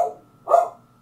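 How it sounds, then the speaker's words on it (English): A household dog barks once at middle distance, a single short woof after a brief earlier yelp, while someone at home works through a budget. "That's my dog"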